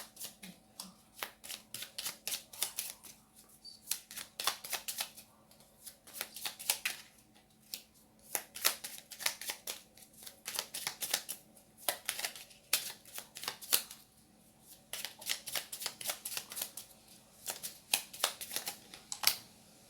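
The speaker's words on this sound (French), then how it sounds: "Là, je vous tire une petite carte de l'oracle des anges." Angel oracle cards shuffled and drawn by hand, a quiet, continuous run of rapid papery flicks and riffles in bursts, close up with no talking.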